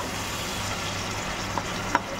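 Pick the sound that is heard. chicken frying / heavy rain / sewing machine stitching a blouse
chicken frying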